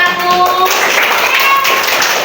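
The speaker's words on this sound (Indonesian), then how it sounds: "tepuk tangan untuk kelompok 1" Students in a classroom clap for a group that has just presented, a short, lively patter of hands, with a voice briefly heard at the start over the clapping.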